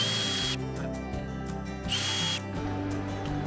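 A power drill drives screws into an electrical switch panel in short repeated whirring bursts with pauses between, fairly loud and close, with no talking.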